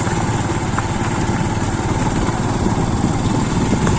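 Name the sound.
motorcycle engine on rough off-road track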